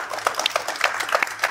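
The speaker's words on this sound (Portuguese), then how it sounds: "Por que vocês não dão uma bela salva de palmas para Charlie Kirk?" Brief burst of audience applause at a political event, a quick run of distinct hand claps close by with a fuller clapping crowd behind.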